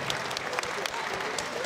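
Steady applause from a crowd at a junior boxing event, dense and continuous clapping at moderate distance without a break.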